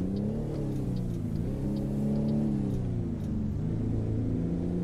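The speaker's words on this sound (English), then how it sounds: "Listen to that engine." A heavy Kenworth W900B truck engine in American Truck Simulator drones and revs steadily, pitch rising and falling slightly as it works through gears, continuous with no voices.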